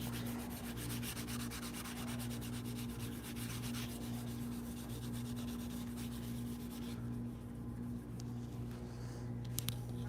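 Hand polishing of a wooden surface gives a continuous soft rubbing and scrubbing, steady and close, with a constant low machine hum underneath and no talking.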